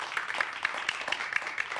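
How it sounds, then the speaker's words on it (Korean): A lecture audience at a math talk clapping in applause, with steady, evenly spaced claps blending into a light patter, moderately loud and heard alone. "만약 감격적이면 박수를 꼭 쳐주세요"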